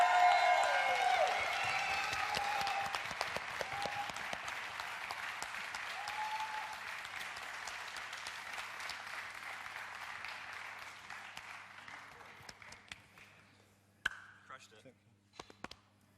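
An audience at a live BACARDÍ Legacy cocktail event breaks into loud, dense applause that slowly thins and fades over about fourteen seconds, ending in a few scattered claps.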